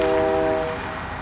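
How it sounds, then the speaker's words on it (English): A VIA Rail P42 locomotive sounds its horn, a loud, steady multi-tone chord that holds briefly and then fades a little as the blast ends. "581's honking."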